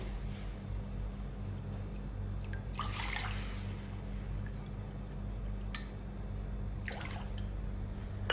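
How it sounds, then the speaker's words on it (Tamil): Three cups of water pour steadily into a pot for kozhukattai payasam, a soft, continuous splashing trickle over a low background hum, a few brighter splashes along the way. "மூணு கப்பு தண்ணி சேர்க்குறேன்"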